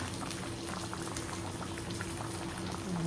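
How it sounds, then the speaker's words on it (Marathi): Crab curry stuffed with egg masala, Agri-Koli style, simmering in a pot: a steady, continuous bubbling boil with dense small pops, close and even throughout, with no voices. "थोडाफार रस्सा आटवून घ्यायचा आहे"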